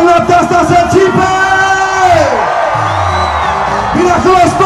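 Party crowd at a DJ music show yelling and whooping in a dense, loud roar, mixed with amplified voices and music.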